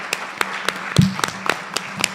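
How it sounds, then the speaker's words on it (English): Scattered applause from a summit audience, a handful of sparse, distinct claps spaced out over about two seconds with a low hum underneath, fairly thin rather than a full ovation. "I want to just give them a round of applause."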